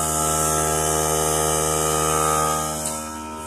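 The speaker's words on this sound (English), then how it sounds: "There's the pancake compressor running." A small pancake air compressor in a workshop running with a loud, steady motor hum that holds constant, then drops slightly in level near the end.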